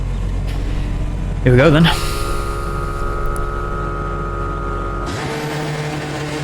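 A Hyundai Elantra race car in iRacing drones with a steady engine note at the Watkins Glen start, then the pitch shifts sharply as it launches off the line, with someone talking briefly near the start.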